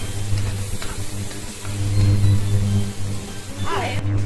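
Chopped garlic fries in a hot pan with a steady, close sizzle and hiss, accompanied by a low background hum and occasional stirring scrapes.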